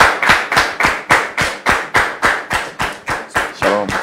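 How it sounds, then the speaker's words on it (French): Rhythmic clapping welcoming a guest on stage, about a dozen evenly spaced loud claps at a steady tempo, with a brief voice near the end. "On le reçoit, s'il vous plaît, avec vos applaudissements."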